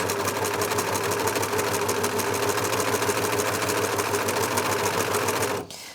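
A Janome 6234XL overlocker runs steadily at speed under foot-pedal control, a loud, even mechanical whir with rapid stitching rhythm that cuts off abruptly at the end.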